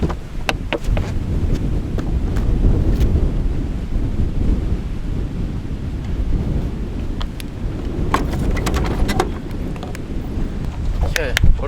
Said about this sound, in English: Still pretty windy